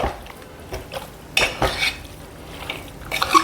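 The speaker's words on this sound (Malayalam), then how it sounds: "എല്ലാം കൂടെ ഒന്ന് മിക്സ് ചെയ്യാം" Masala and coconut oil are stirred in a pot with a metal spoon, making a few sharp scraping clanks and clinks in irregular bursts over a quiet, faint background.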